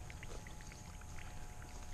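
Spring water pours from a pipe into an outdoor water tank, making a steady, close splashing gush with no pause.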